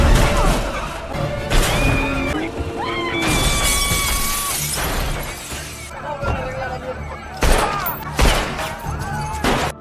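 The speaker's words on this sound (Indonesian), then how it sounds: "menyebabkan para pemuda itu menabrak jendela kaca" In a film scene, a vehicle smashes into a glass window with loud bursts of shattering and crashing glass, set against a busy, layered soundtrack.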